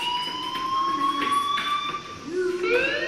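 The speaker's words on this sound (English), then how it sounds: "Hey, do you hear that fire alarm?" A fire alarm ringing in the video game Life is Strange, a steady electronic tone with a pulsing, bell-like edge, moderately loud and continuous, joined by a rising sweep near the end.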